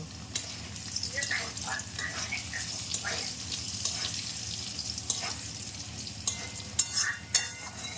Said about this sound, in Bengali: চলো মাথা ভাজাটা করে নিই